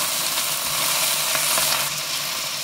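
Soft ginger frying in a pan for a bhindi (okra) dish, giving a steady, bright sizzle with a few faint stirring scrapes, close up and continuous without a break.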